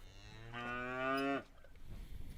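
A single cow moos in Uganda, one long, loud, close bellow followed by quiet rural background.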